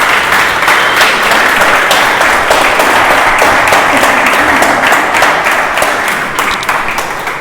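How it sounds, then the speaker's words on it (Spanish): Loud, sustained applause from an audience at a school Book Day event, continuous dense clapping filling the whole stretch with no speech over it. "un aplauso para ellos"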